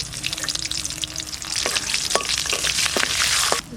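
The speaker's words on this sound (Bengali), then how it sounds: "ফোড়ন দেওয়ার জন্য সরষের তেল দিয়ে দিচ্ছি," Bay leaves hit hot mustard oil in a pot to temper khichuri, a loud frying sizzle that builds, dotted with sharp crackles and pops, close up and without speech.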